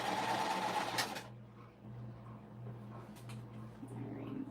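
Home sewing machine chain stitching half square triangle quilt pieces, a steady mechanical whir running throughout at moderate volume, with a brief louder burst at the start.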